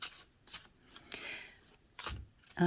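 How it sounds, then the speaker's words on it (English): Quiet, close bursts of a 22-card tarot deck being shuffled, a few short papery riffles and one longer rustle, ending with a brief faint voice. "So when I shuffle a 22 card deck, I typically try to shuffle it 21 times"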